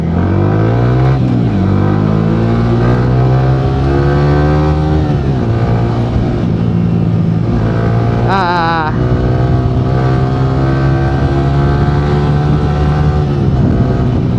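A second-hand motorcycle ridden hard through its gears, engine droning close and loud with rising and falling pitch at each shift, joined by a brief high squeal partway through and a voice talking over it.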